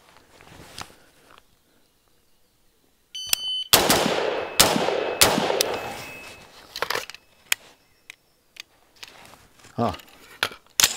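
A pink AR-15-style MU-15 rifle fires outdoors: a rapid string of loud, sharp shots with ringing tails, then scattered quieter shots, handling noises and voices around them.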